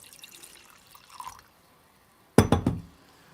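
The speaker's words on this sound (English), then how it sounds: "I'm gonna pour myself another drink" A drink poured into a glass by a musician, with a short clatter and clink of glass and liquid splashing as the pour starts, close and fairly loud after a quieter stretch of faint rustling.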